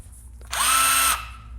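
An impact driver fitted with a drill bit spins up briefly, giving a loud, high-pitched whine that rises quickly, holds steady for about half a second, then stops abruptly, over low background hum.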